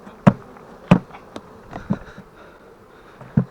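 Honey bee swarm being poured into a hive, a low buzzing drone with several sharp knocks as the bees are shaken out, no talking.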